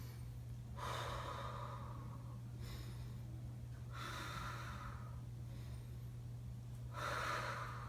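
Three slow, deep breaths taken while holding a stretch, each a long, audible airy exhale spaced a few seconds apart, close and quiet over a low, steady electrical hum.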